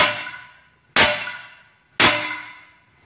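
Three hard strikes of a standard hammer against a tempered glass door, each a sharp, loud impact that rings and decays over about a second, evenly spaced and close.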